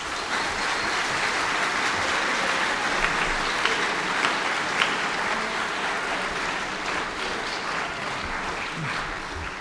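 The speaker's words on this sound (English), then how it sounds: "Let's give them another hand." Sustained applause from a large audience at a military institute's yearling turning ceremony for cadets, a broad, even roar of many clapping hands lasting throughout.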